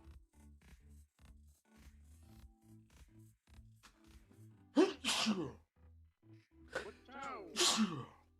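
A sneeze from a person streaming live, two sharp bursts a few seconds apart, close and fairly quiet, with low murmured talk and faint background hum around them.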